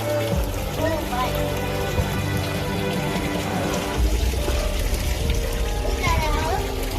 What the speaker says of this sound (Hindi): तो ये जो कुंड है वहाँ से पानी निकल रहा है।